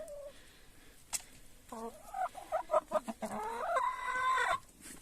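Chickens in a village coop clucking and squawking nearby, a run of choppy calls rising into a longer excited cackle, with faint background noise between.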